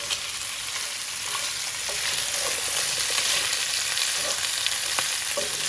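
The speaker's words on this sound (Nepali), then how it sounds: "म चाहिँ यसलाई यसरी नै भुट्छु, पल्टाइ गरी" Onion fries in a pan, a constant close sizzle with light crackling and a few soft stirring clicks, steady throughout with no talk.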